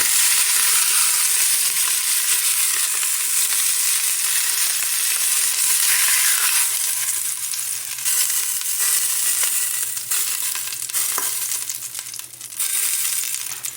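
Beef browning in a pan for a stew, a loud continuous hiss and crackle of sizzling fat that keeps going throughout, with a few faint scraping sounds and no speech.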